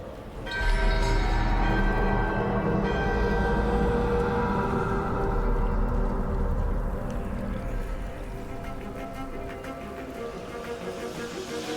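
During a ritual in Dragon Age: The Veilguard, a huge bell rings with a dense, resonant metallic drone and deep rumble, swelling in quickly and sustaining loudly before slowly fading back a little.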